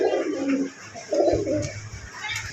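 Domestic pigeons from a sales stock of orange, blue and Danish show breeds coo in low, throaty bursts, two or three rolling calls close by with faint chirps, no talking.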